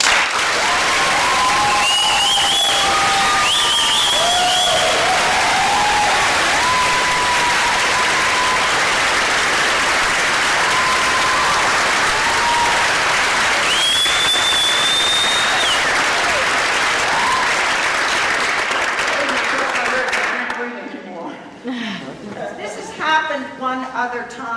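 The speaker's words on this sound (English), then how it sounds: "I think we'd like to give him a big round of applause." A big round of applause from an audience at an awards and recognition evening, loud sustained clapping lasting about twenty seconds before tapering off, with crowd chatter and a few voices and whistles mixed in.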